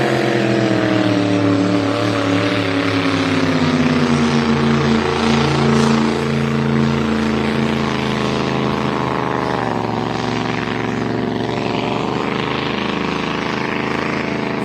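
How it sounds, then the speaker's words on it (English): Powerful hydroplane race boat engines roar steadily during testing on San Diego bay, a loud droning growl with shifting pitch that fills the whole stretch without pause. "here comes your race boats"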